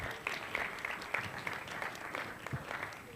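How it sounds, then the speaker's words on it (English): A live audience claps for a motivational speaker, a dense, steady patter of many hands at moderate distance filling the whole stretch with no voices over it. "Let's give him a round of applause"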